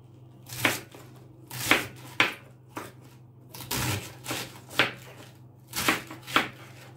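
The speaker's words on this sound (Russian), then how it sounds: "Вот такими квадратиками нарежу, а можно вот такими вот длинными." Knife chopping green tomatoes into squares on a board, roughly a dozen sharp irregular cuts close by, quiet between strokes, no talking.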